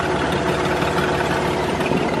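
A Volkswagen Routan minivan idles with a loose exhaust, giving a steady, loud, rumbling drone with a slight rattling buzz that holds unchanged from start to finish.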